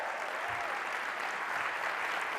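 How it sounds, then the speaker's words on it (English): Applause from the audience at the opening ceremony of the Zero Project Conference 2025, a steady, moderately distant wash of clapping with no clear break or swell. "they won't come out until they hear the warmest applause on earth"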